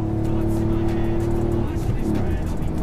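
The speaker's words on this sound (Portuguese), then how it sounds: "vou dar uma reduzida aqui para a terceira marcha" A Peugeot 208 1.0 engine drones steadily, then the pitch drops partway through as it shifts down to third gear, loud and close from inside the cabin.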